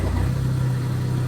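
A car being driven out of a home parking spot, its engine giving a steady, close, low hum throughout with no speech.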